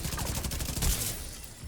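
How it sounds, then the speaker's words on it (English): Rapid bursts of automatic gunfire from The Division 2, a close, fast rattling fusillade of shots over a short stretch with no talk. "Now we can come over here and shoot this thing."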